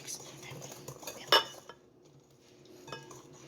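Orange pound cake batter being mixed in a bowl, with soft stirring and scraping, a sharp utensil clink against the bowl partway through and a lighter clink later, fairly quiet.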